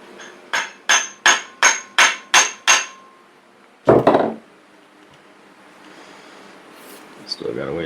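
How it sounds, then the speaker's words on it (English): A hammer strikes eight evenly spaced blows in quick succession, driving a handle into a sidewalk ice scraper, then one heavier knock; a voice speaks briefly near the end. "We're going to drive that in there."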